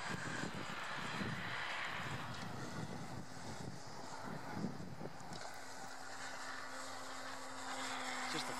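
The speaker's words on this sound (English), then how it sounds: "Just a fun little plane to fly." Small E-flite Clipped Wing Cub RC plane flying overhead, its engine whining steadily at a distance through wind noise, with the pitch shifting as it passes.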